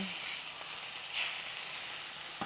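Meat sizzles steadily in a hot pan on its own, with a continuous bright frying hiss and a couple of soft clicks from the pan.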